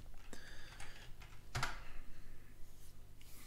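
Keys tapped on a computer keyboard while a password is entered, an uneven run of light clicks with a few sharper strikes and short pauses, close and fairly quiet, no voices.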